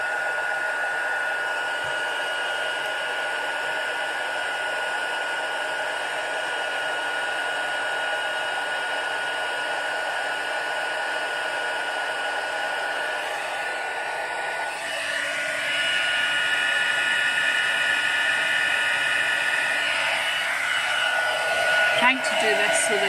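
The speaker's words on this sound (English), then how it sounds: "I'm going to get my heat tool out now." Heat embossing tool blowing a steady, loud whooshing stream of hot air for gold embossing on a card, running continuously and rising in intensity toward the end.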